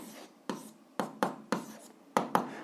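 Pen or pencil writing an algebra answer by hand on paper, heard as six sharp scratchy strokes in an uneven rhythm, close and fairly quiet, with no talk.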